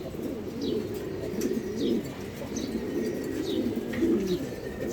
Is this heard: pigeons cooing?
yes